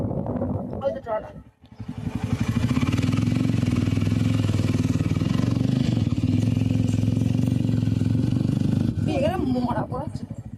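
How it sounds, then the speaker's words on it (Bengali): A fishing trawler's diesel engine throbs loud and close with a steady low chugging that runs for most of the stretch, with people talking briefly before and after. "ওই তো ট্রলার"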